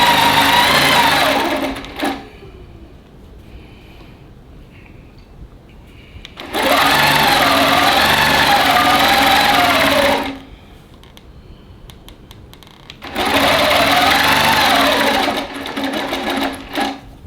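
A long arm sewing machine stitches across a fabric tote, three loud, close bursts of rapid whirring separated by pauses of quieter hum.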